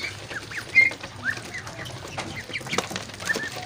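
Home-raised ducks about 21 days old give scattered, brief chirping peeps at an even, modest loudness, with faint flutters between calls and no voices.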